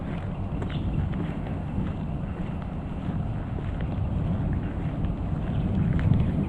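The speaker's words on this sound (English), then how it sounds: "Definitely more breezy over here next to this field marsh area." Steady breeze blowing outdoors beside a field marsh on an April hike, a continuous low rumble buffeting the microphone that swells slightly near the end, with no voices.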